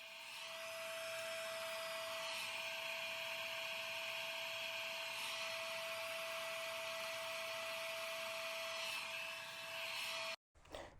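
A blow dryer runs steadily while drying a wig install, a constant whirring hum with a bright tonal whine, held nearly unbroken before cutting off abruptly near the end, with no voices.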